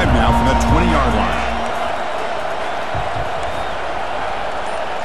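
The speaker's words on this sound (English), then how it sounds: "Crowd going crazy up in here" Stadium crowd roaring in the College Football 25 video game during a Washington Huskies vs Oregon Ducks matchup, a broad, steady wall of cheering noise with a commentator's voice talking over the start.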